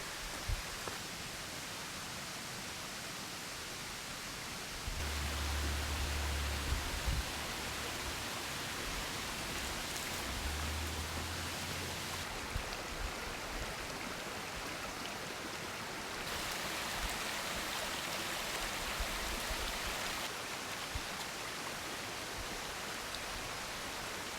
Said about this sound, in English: Looks like I'm approaching the creek.